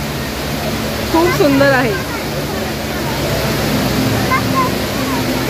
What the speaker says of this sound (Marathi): दुबई मॉलमध्ये हा वॉटरफॉल आहे.